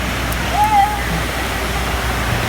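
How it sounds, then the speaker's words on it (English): A water park waterfall at Volcano Bay, Florida, pours in a steady, close rushing wash of water, with a short bright tone briefly audible above it. "go under the waterfall"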